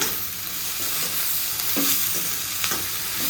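Capsicum and tomato fry in a pan with a steady close sizzle, broken by a few scraping stirs of a spoon against the pan, and no voices.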